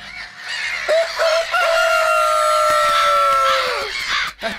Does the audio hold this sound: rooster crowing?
yes